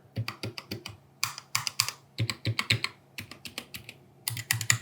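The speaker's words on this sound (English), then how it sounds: "The sound overall is a little uneven across the keyboard, as you can hear right here." Close-up typing on a cheap TEMU gaming keyboard whose sound is uneven across the keys, with some keys thockier than others. Quick bursts of clicky keystrokes alternate with short pauses, and no one talks.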